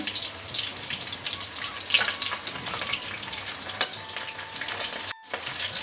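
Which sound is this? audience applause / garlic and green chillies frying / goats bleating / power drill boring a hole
garlic and green chillies frying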